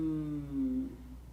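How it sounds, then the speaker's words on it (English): A human voice does a breath-to-sound warm-up: a soft nasal exhale with closed lips glides into a steady pitched hum, which slides slightly and fades over about a second. "this time exhale through your nose with the force of a slow sneeze."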